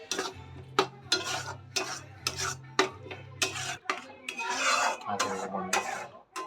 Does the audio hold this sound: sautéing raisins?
yes